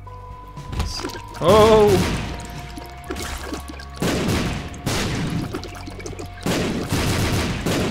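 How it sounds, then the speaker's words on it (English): A bomb explodes in The Binding of Isaac game, several booming bursts spread across the moment with heavy broadband crashes, alongside game tones and a short exclaimed voice. "Another bomb."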